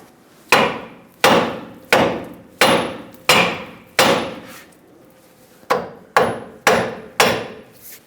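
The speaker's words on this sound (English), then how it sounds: "take a hammer, tap the knuckle to separate the two" A hammer strikes the steel steering knuckle of a 2007-2014 Chevrolet Silverado 2500 HD ten times in a steady rhythm, each sharp ringing blow close and loud, with a short pause midway.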